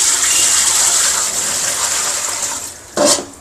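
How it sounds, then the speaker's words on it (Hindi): Water pours and gushes into a bucket, set up to test a cooler motor and pump, in a loud, close, continuous rushing stream that ends with a brief splashing burst near the end, with no speech. "तो ये मैंने इसमें पानी डाल दिया है"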